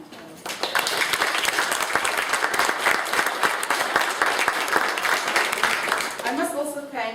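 An audience at a county immigration portal launch applauds for about six seconds, a dense steady clapping that fades out before a voice resumes speaking.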